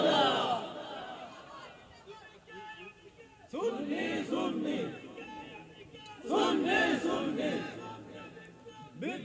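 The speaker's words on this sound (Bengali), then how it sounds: "কারা কারা রাজি আছেন একটা হাত তুলে স্লোগান লন ইনশাআল্লাহ" A crowd at an Islamic religious sermon gathering shouts a slogan in unison in loud rhythmic bursts, answering a preacher's amplified calls between them.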